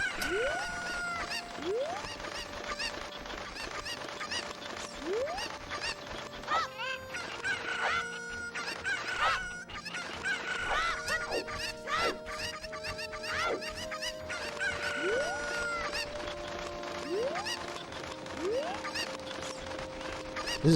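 Chicken clucks and crowing-style calls from a Zelda video game, a series of game sound effects and pitched chirps repeating steadily throughout alongside game music, with no talking.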